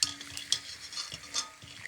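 Bhungra snacks for garlic bhungra bateta frying in oil in a village kitchen, with soft crackling sizzle and several light stirring scrapes and utensil clinks at irregular intervals, close and fairly quiet.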